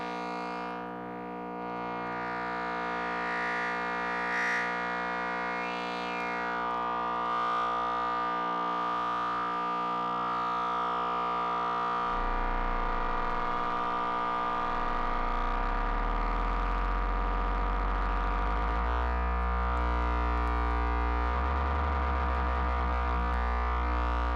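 A tuned, filtered synthesizer noise patch drones with steady layered tones and a siren-like sweep, shifting in timbre and gaining a heavy low rumble halfway through, loud and continuous with no talking.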